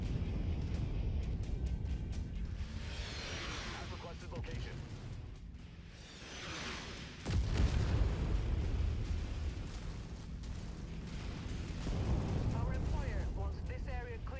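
Artillery fire in the Mechwarrior 5 video game, with repeated deep booms and rumbling blasts that come and go under steady low engine noise as someone talks over them.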